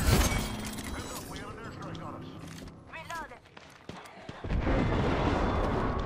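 Artillery bombardment in the video game Apex Legends: heavy booming blasts and shattering impacts, loud at the start and building again into a dense rumbling barrage near the end, with people talking over the middle stretch.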